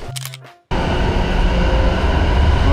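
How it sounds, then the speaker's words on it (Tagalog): Train passing on overhead lines in Tokyo, heard from below: a brief tone fades to silence, then a loud, dense, steady roar of the train overhead continues with no voices. "Tren sa ibabaw yan."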